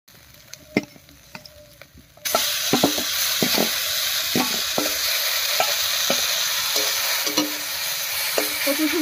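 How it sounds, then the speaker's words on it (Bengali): Boiled taro flowers fry in a pan with dried shrimp: quiet spoon taps at first, then a loud, sudden sizzle that carries on steadily, broken by repeated clicks of stirring. "কচুর ফুলটাকেও এক সঙ্গে করে ভাজা ভাজা করে দিবি।"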